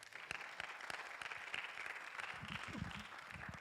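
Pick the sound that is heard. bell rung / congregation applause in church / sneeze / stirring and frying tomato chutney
congregation applause in church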